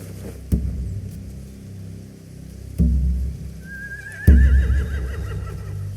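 A horse in the video game The Walking Dead: The Final Season whinnies with a wavering, rising neigh amid a few heavy thuds and low rumbling background, no talking.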